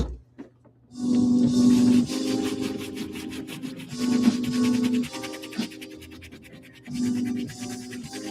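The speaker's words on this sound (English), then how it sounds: "I'm kind of rubbing with the run of the fabric, right?" Sneaker fabric rubbed with a cleaning brush in bursts of steady scratchy scrubbing, each lasting a second or two, with short pauses between strokes, close up and alone.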